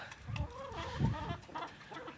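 Chickens and a rooster cluck and squawk in short, irregular bursts, fairly close, with no talking.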